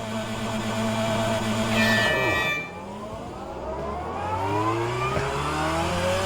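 A car with a dual-clutch gearbox launches from a standstill using only one clutch. The engine holds high revs, drops sharply, then climbs again in rising harmonic sweeps as it pulls away, loud and close.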